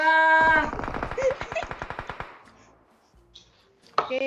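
Rapid automatic gunfire in the PUBG Mobile video game, a close burst of evenly spaced shots that trails off. Quieter sounds follow, then a sharp noise at the end.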